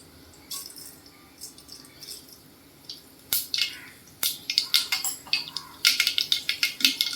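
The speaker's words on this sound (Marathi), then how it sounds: "अर्धा चमचा मोहरी टाकते." Half a spoon of mustard seeds dropped into hot oil for a tempering, starting with a few scattered pops and building into rapid, sharp crackling and spitting near the pan.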